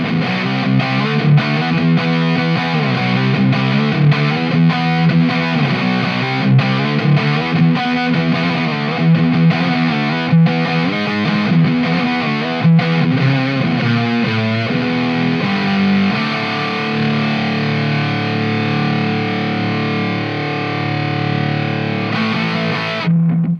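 Electric guitar played through a Boss HM-2 or HM-3 distortion pedal, loud and continuous, with chugging riffs and sustained crunchy chords throughout.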